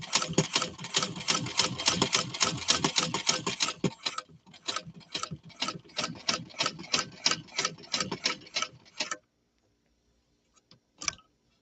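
A hand-crank sewing machine stitches fabric in a rapid, even run of mechanical ticks, slowing into distinct spaced clacks before stopping, with one last brief burst after a pause; no one speaks.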